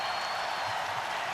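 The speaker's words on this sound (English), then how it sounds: "I'd like all of you to join me in cheering on Kyle as his wish comes true" A large stadium crowd at the NFL Draft roars and applauds in a dense, continuous wash of sound that holds at an even level throughout.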